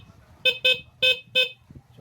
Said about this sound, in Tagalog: Sa busina naman tayo guys, sa busina.